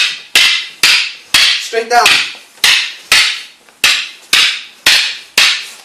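Wooden sticks strike sharply in a single stick fighting drill, about ten loud, evenly spaced cracks in a steady rhythm, with a brief spoken cue partway through.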